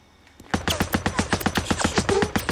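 Repeated gunfire in the video game Days Gone, a rapid series of loud, evenly spaced shots after a brief quiet start, sounding like an automatic burst close to the listener.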